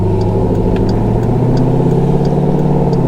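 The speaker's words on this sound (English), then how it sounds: "Shifting on this thing, you have to be very quick with it so it doesn't redline, and I just kind of redlined" A loud car engine strains near redline during gear shifts, a dense, steady roar with layered harmonics that stays close and constant throughout.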